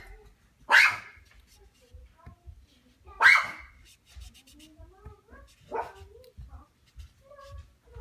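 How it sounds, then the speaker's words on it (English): A dog barks three times indoors, sharp separate woofs spaced a few seconds apart, with quieter household sounds and faint voice-like noises between them. "My dog has decided to let me know everybody is here."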